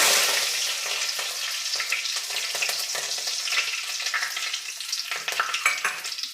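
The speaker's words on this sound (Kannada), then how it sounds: "ಈಗ ಅದೇ ಎಣ್ಣೆಗೆ ಒಂದು ಅರ್ಧ ಸ್ಪೂನು ಸಾಸಿವೆ ಸೇರಿಸ್ಕೊಳ್ತೀನಿ ಸ್ವಲ್ಪ ಕರ್ಬೇವಿನ ಸೊಪ್ಪು" Mustard seeds and curry leaves sizzle in hot oil for a Kannada-style beans and garlic rice dish, giving a bright crackling spatter with irregular pops throughout.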